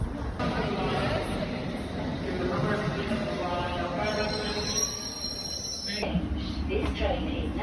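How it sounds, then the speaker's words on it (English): A commuter train running on rails on a long ride home, with a steady rumble throughout and high metallic wheel squeal from about four to six seconds, heard from inside the carriage with faint background chatter. "now I got myself a 45-minute train ride back."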